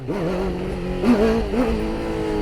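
A motorcycle engine revs hard during a power wheelie, a loud close roar that climbs and dips in pitch twice in quick succession over about two seconds, with no talk.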